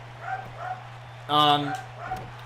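A pet dog gives one loud, sharp bark-like yelp close by, set against a steady electrical hum, with quieter sounds before and after that may be faint voices.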